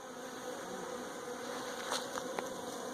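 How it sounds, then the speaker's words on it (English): Honey bees buzz steadily around an open hive in late autumn, a dense, even drone close by, with a few brief clicks and handling sounds. "Look how clean those bees look."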